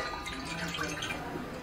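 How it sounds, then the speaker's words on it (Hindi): Half a cup of water pours into a pot for melting jaggery for thekua, a brief, soft, close splashing trickle. "हाफ कप पानी डालेंगे,"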